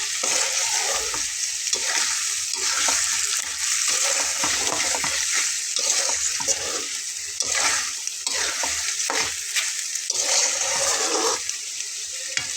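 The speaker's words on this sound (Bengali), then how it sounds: "যতক্ষণ পর্যন্ত এই ভুঁড়ির ভেতর থেকে পানি বের হবে ততক্ষণ পর্যন্ত আমি খুব ভালোভাবে কষিয়ে নেব" Tripe being stir-cooked down in mustard oil with potatoes, a steady loud frying sizzle with repeated scraping stirs throughout, close and continuous with no talk.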